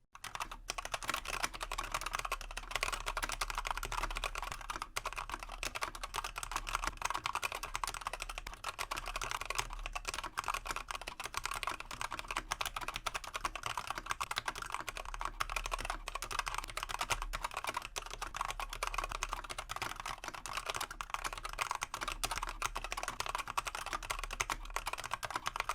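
Steady, fast typing on a HAVIT KB487L mechanical keyboard with Gateron-yellow-like switches, a continuous close run of even clacks with no talk.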